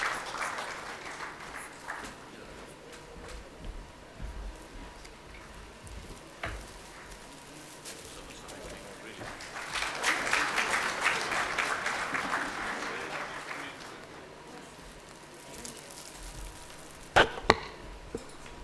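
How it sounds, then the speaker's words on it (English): Convention audience at a valedictory session applauds, a soft, distant wash of clapping that swells in the middle and then fades, with a few sharp clicks and knocks near the end. "let's have a warm round of applause"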